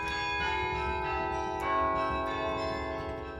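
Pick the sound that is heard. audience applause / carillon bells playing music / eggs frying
carillon bells playing music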